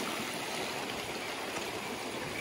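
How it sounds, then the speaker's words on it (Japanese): A clear mountain stream rushes steadily and continuously at close range in an autumn forest on a hike to Momotō Falls on Mount Moriyoshi, a broad, even wash of flowing water with no voices. "まずは川を渡ります。"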